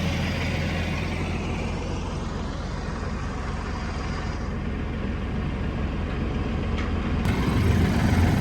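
A tractor works a ranch track, smoothing and spreading rock in a steady, close diesel drone that runs unbroken throughout, swelling slightly louder near the end, with no speech.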